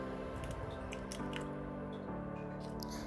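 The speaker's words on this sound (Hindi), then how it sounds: "अब हम एक बाउल में 1 अंडा डालेंगे" A single egg goes into a bowl for fish finger batter, a soft wet squish and drip over a steady tonal background, close and quiet.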